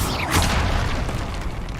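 A Confringo blasting spell explodes in Hogwarts Legacy, a loud booming burst that rings out for under two seconds with a dense, rumbling low end.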